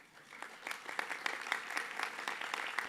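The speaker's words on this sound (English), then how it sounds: "And a round of applause for your supporters, if you don't mind." A round of applause for graduates' supporters at a university Faculty of Health graduation ceremony: steady, fairly soft clapping from a large seated audience in a hall, with individual claps audible throughout.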